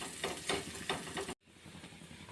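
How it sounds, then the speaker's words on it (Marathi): An onion paratha fries steadily on a pan over low heat, giving a soft continuous sizzle with faint rhythmic taps before a sudden cut to quieter background hiss. "आपल्याला हे पराठे कमी आचेवरती शिजवून घ्यायचे आहे"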